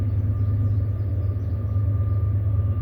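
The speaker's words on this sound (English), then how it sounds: "Train coming by." A train rumbles past nearby, a steady heavy low roar with a faint tonal hum, continuous from start to finish with no voices.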